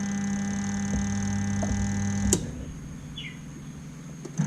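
The spin motor of a Samsung twin-tub washing machine, model WT15J79, hums with a steady electrical drone but does not turn. The hum stops with a sharp click after about two seconds, leaving a quieter background.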